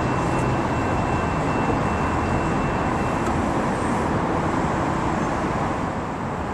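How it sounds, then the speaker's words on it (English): A loud, steady rumble of a northbound Amtrak, Coaster or Metrolink train running close by, broad and unbroken from start to finish. "we have a northbound train coming through here"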